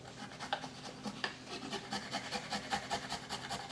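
Fresh ginger is grated on a kitchen grater. Quick, soft, rhythmic rasping strokes repeat steadily for a few seconds, quiet and close.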